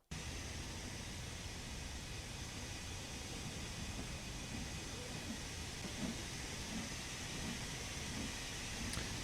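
Steam passenger train hauling 432 tons in Train Sim World 2 pulling away, a steady hissing roar of steam with faint rhythmic chuffs building beneath, continuous and even with no voices.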